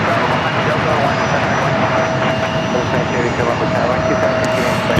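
An Alaska Horizon airliner at San Diego airport gives off a loud, continuous jet engine roar with a steady tonal whine. Someone speaks over it.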